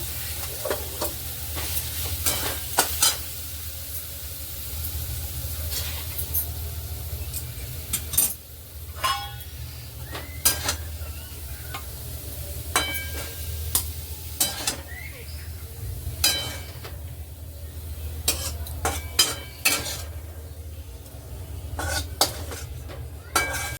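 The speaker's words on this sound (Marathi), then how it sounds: "आता आपण एका बाउलमध्ये हिला काढून घेऊया." Paneer bhurji stirred in a pan over a low sizzle, then scooped into a bowl, with a spoon or spatula scraping and clinking against metal in irregular sharp knocks throughout, close and fairly loud over a faint steady hiss.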